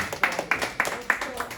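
A small group at a church youth service claps in a steady rhythm, with several sharp close claps repeating about every third of a second.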